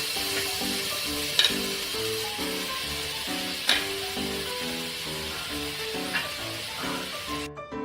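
Grated raw papaya is sautéed in ghee inside a pressure cooker, making a gentle continuous sizzle with a few sharper stirring clinks, quiet and heard under soft background music.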